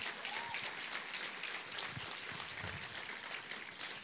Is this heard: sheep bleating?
no